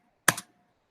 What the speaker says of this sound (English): I'm going to type in 9